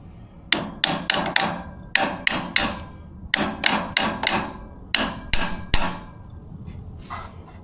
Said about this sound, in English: Using a claw hammer on metal,